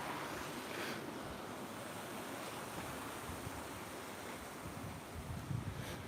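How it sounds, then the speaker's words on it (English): Rushing water from waterfalls at Secret Blackburn, a steady broadband roar of churning flow heard close and continuous with no talk over it. "it's really, really noisy for these waterfalls here"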